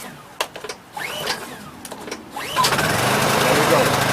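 Honda EU2200i inverter generator being pull-started with the choke on: a few sharp recoil-cord pulls, then the small engine catches and settles into a steady close running hum, with a voice speaking over it.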